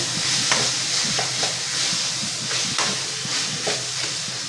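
Boiled potatoes being stirred into fenugreek in a hot pan, a continuous dense sizzle with repeated scraping strokes of a spoon across the pan, close and steady.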